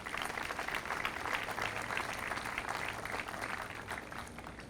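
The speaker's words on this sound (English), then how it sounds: "So let's give a round of applause to all our sponsors." Crowd applause at a Relay for Life opening ceremony in Lyon County, honoring the event's sponsors; steady, dense clapping from many hands, moderately loud and sustained throughout.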